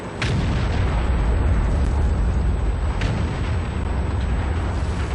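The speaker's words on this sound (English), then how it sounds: "And the first shots have been fired." Tank cannon fire and explosions from a World of Tanks battle, with the Tortoise and FV215b in an urban map: a continuous loud rumbling roar with a couple of sharp booms near the start and around the third second.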